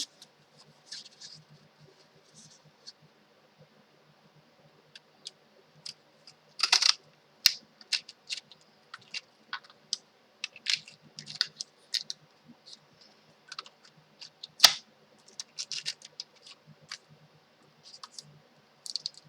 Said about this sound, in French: On va venir également découper dans du papier bleu quelques petits ballons.